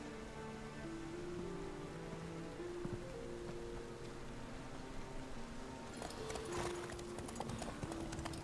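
Roach the horse trots in The Witcher 3, a steady clip-clop of hooves over a busy game soundscape with music and ambient rain-like texture, growing brighter and more cluttered toward the end.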